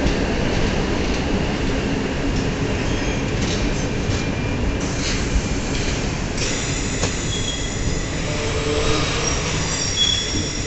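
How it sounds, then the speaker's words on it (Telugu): A Kacheguda to Peddapalli DEMU train rolls into a railway station with a loud continuous rumble of wheels and cars, faint squeals of wheels on rail rising now and then, heard close and with no speech. "సో రైల్వే స్టేషన్కి ఎంటర్ అయింది కాచిగూడ టు పెద్దపల్లి ట్రైన్."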